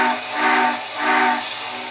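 A model steam locomotive's reverse signal whistle, an MTH C&FW RR #8 Hooterville Cannonball, gives two breathy, hissing toots of even length with a short gap between them, close and alone.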